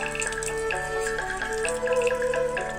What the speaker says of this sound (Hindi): मैं अपना जूता में पानी डालूंगा ताकि थोड़ा ठंडा हो